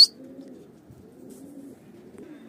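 Soft, low pigeon cooing rolls on steadily in a quiet setting, with a brief high chirp right at the start.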